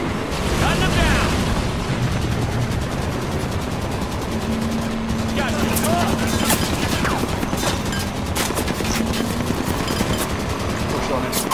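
Sustained automatic gunfire in Halo 5: Guardians, with a Warthog vehicle in the fight. Rapid machine-gun bursts and blasts run throughout a loud battle, and voices talk over the shooting.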